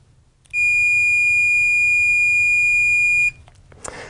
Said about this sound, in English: we get a nice beep noise out of the instrument